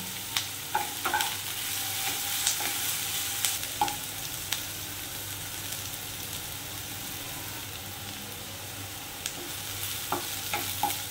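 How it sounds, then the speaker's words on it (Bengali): Chicken pieces frying in white oil for a stew, a steady, close sizzle with the occasional tap and scrape of a stirring spoon, no one speaking. "মিনিট 2-3 এইভাবে ভাজার পর"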